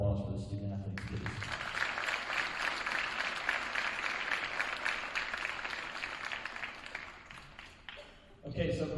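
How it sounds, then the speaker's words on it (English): Sustained crowd applause fills a school winter awards ceremony for St. Mary's Ryken student athletes, steady clapping lasting several seconds before a voice speaks at the end. "A big round of applause for the student athletes, please"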